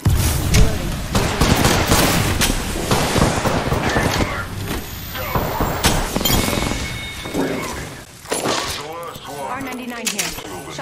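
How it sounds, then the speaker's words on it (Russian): Bursts of video game gunfire crackle in rapid volleys, loud and dense, with heavier booms mixed in while players talk over the shooting. "Поедем как раз в сторону стрельбы."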